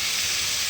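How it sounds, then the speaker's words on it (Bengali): Food fries slowly in a home kitchen pan, giving a steady, even hiss that stays constant and fairly loud for the whole short moment, with no voices. "তো এটা এখন ভাজা হোক ধীরে সুস্থে।"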